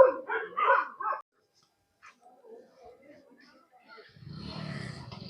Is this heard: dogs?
yes